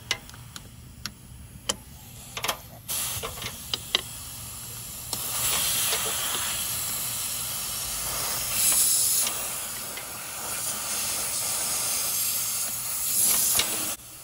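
Compressed air hisses loudly and steadily from the air suspension valve block fittings of a Range Rover Sport L320 as they are unscrewed, following a few sharp clicks and taps near the start, close up with no talk.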